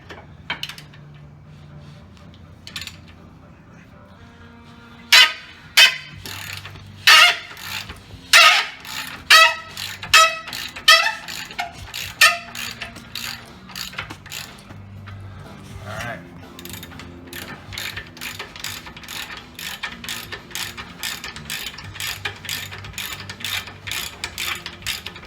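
Rapid clicking of a socket wrench ratchet working on the rear air shock of a 2002 Chevrolet Suburban, sharp close bursts of ratcheting repeated through the stretch over a low background hum, with no talk.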